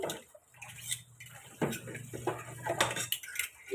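Dishes and cutlery being washed in a morning kitchen cleanup, with clinks of plates and utensils and faint running water scattered through, moderately close and fairly quiet, no talk.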